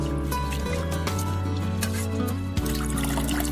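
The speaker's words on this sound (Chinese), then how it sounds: "然后用清水多洗几遍，清洗干净" Soaked wood ear mushrooms are rinsed in clean water, with close, steady splashing, dripping and squishing as they are handled in a bowl.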